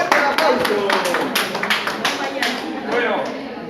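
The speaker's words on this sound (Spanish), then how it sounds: "Eso, fuerte el aplauso." An audience at a hospital training session on patients' rights and duties claps loudly in a brief round of applause, with a voice talking over the clapping.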